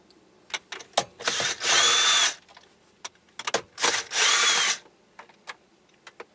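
A power driver loosens 10 mm screws holding a Toyota Corolla radio, sounding as two loud, sustained whirring bursts close by, scattered among sharp clicks and small taps of handling.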